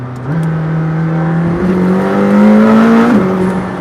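McLaren Senna ultra-performance car engine in a mid-range pull, a loud, close, steady roar whose pitch climbs through two rising steps with shifts in between, with no talk over it.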